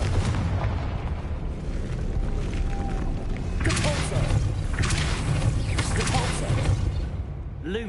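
Confringo blasting spell in the Hogwarts Legacy video game, a loud booming fiery burst followed by rumbling crackle that swells again midway, with game ambience throughout.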